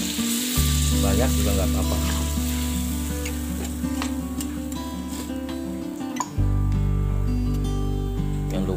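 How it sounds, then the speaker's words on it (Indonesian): Water poured into a pan of shrimp gulai curry sets off a steady, close sizzle and bubbling that carries on throughout, with stirring noises and someone speaking briefly over it. "Lalu kita tambahkan air sesuai selera saja ya."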